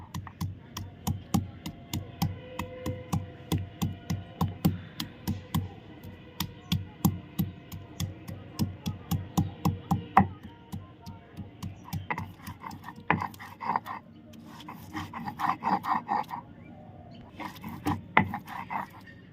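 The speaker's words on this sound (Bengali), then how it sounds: "এখানে আমি আদা আর রসুন একসঙ্গে বেটে নিচ্ছি।" Ginger and garlic are crushed together on a grinding stone in a Bengali kitchen, with a steady run of close, rhythmic scraping strokes that turn sparser and more irregular toward the end.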